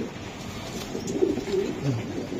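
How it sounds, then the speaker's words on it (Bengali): Racer pigeons in a loft offered for sale give a few soft, low coos against a steady background murmur, fairly faint and unhurried. "এই যে নট ডাকতেছে"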